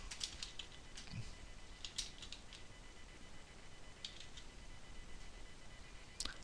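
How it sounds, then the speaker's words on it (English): Sparse, quiet keystrokes on a computer keyboard while entering text into software, a few isolated clicks spread over a low, steady room hiss. "type it in here and click the Add New Reason"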